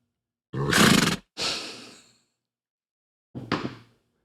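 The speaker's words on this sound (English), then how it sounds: "That was a horse." A horse sound effect: a loud whinny-like burst followed by a breathy snort, a pause, then a shorter snort, close and clear with no talking.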